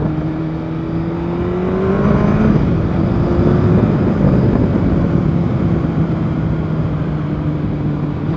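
A Kawasaki ZZR 1100 (ZX11) motorcycle engine sounds on a fast test ride, with a loud, continuous roar. Its pitch sweeps up around the two-second mark and then holds steady through the rest of the run.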